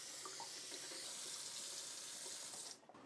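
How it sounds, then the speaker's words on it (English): Fresh water runs steadily from a tap into a sink while freshly butchered backyard chicken is rinsed, a continuous close splashing flow that cuts off abruptly near the end. "Get my rinse off with some fresh water."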